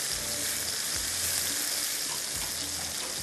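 Masala with tomatoes and yogurt hisses in a hot pan for makhni kabab, a steady close sizzle with a few soft stirring thumps and no talk.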